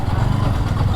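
A motorcycle with starting trouble, its engine running loud and close in a steady, throbbing idle with a slight clatter throughout.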